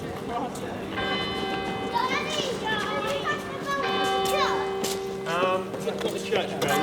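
A large town hall bell in Winchester rings out with long, resonant tones, struck twice, while children's voices and crowd chatter carry on underneath.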